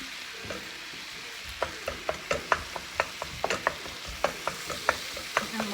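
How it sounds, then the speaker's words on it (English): Ground turkey browning in a pan for a sweet potato one-pan meal, a steady close sizzle broken by a run of light clicking knocks from a utensil stirring and scraping. "we're gonna do is get that turkey nice and brown"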